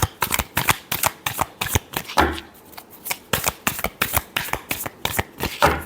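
A deck of tarot cards is shuffled by hand in quick, crisp riffling bursts that repeat in an uneven rhythm, close and fairly quiet, with no talking over it.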